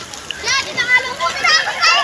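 Water splashing and sloshing with children's voices calling out nearby, lively bursts of splashes as people swim in a river near a dam outdoors.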